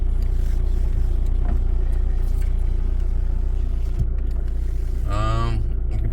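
Audi A6 C6 TDI diesel engine idling, a steady low rumble running throughout under a person talking, with a brief tonal whine rising near the end.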